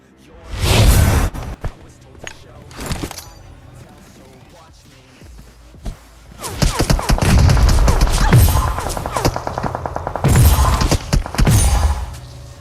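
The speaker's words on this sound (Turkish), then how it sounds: "Uzaklardan mermi yiyoruz yanlar." PUBG Mobile game audio with loud bursts of gunfire, several rapid volleys separated by quieter gaps, along with whooshes and thuds.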